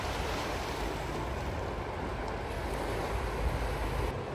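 Steady, loud rush of water roaring out at a hydro power station in Canada, continuous, a dense broadband wash with no pauses and no voices.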